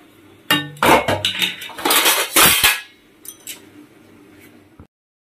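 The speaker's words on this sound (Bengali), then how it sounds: "এই যে এত বাসন, দেখা বাসনগুলো এই যে সব মাজছি এখন" A pile of dishes being scrubbed and washed with Surf detergent, heard as bursts of clattering pots, pans and clinking cutlery that fade to quiet toward the end.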